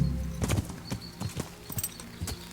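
Horse hooves clip-clop on the ground in the video game Kingdom Come Deliverance, a quick uneven run of close, crisp hoofbeats repeating steadily.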